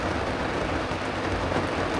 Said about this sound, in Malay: Lepas subuh hujan lebat.